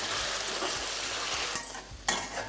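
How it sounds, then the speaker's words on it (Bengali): Salted potato pieces fry in oil in a pan, giving a loud, dense sizzle close by, broken near the end by sharp scrapes and clinks as a utensil stirs them. "জাস্ট নুনটা দেওয়ার পরে ভালো করে মিশিয়ে নিয়ে এটাকে ভাজতে থাকুন"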